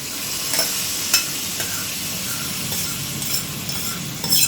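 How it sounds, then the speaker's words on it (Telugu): Hot tadka poured into pongal sizzles steadily as a spoon stirs it through the pot, with faint scrapes and clinks of the utensil. There is no talking. "ఇప్పుడు ఈ తాలింపు మనం ఇందులోకి వేసేసుకోవాలండి."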